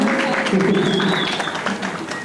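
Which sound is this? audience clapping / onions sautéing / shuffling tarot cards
audience clapping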